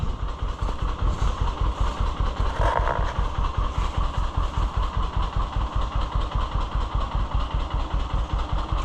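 An idling tractor engine, apparently an old John Deere G or Oliver 1365, runs close and steady, its low rhythmic chugging pulsing evenly throughout with no talk.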